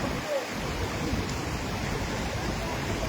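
Floodwater rushing through a village in Sawai Madhopur, a steady dense roar of flowing water that holds constant throughout, with no clear voices over it.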